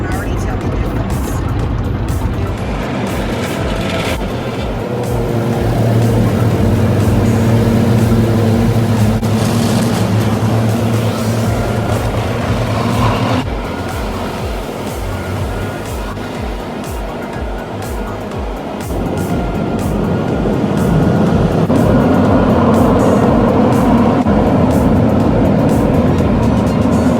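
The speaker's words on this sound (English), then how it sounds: "This car wash is a lot better than the one I normally go to" An automatic car wash runs around a car driving through, with a continuous loud wash of rumbling water spray and machinery that rises and falls in waves over nearly half a minute.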